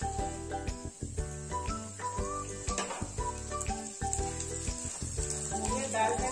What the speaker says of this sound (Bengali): মুগের ডালটা একটু লাল করে ভাজতে হবে।